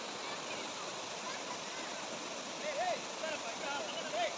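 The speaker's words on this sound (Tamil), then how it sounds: "அடர்ந்து உயர்ந்த மலைகளுக்கு இடையில் கேட்குற இந்த அருவியின் சத்தம்" A waterfall between tall, densely forested mountains produces a steady, broad rushing roar with a few faint bird chirps over the top.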